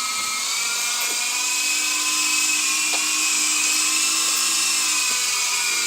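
A small toy helicopter's rotor spins with a steady, loud, high-pitched whine, a continuous motor buzz close by with no talking.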